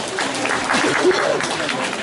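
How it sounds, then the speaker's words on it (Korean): Dense applause from a crowd at a 2018 Gumi mayoral candidacy press conference rolls on steadily, with an announcer's voice carrying over the clapping. "박수 부탁드립니다."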